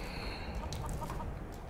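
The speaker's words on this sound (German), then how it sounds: "was ist das? Ein Hahn." A rooster clucks in the video game Skyrim, a few short, close clucks over a steady game ambience with a faint background tone.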